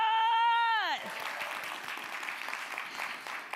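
Audience applause at a TEDx talk at Columbia College in South Carolina, a broad, steady wash of clapping that rises just as a held musical tone ends and carries on loudly for several seconds.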